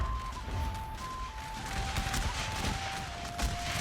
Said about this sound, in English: The line infantry is within range, and has opened up fire on the few remaining troops here.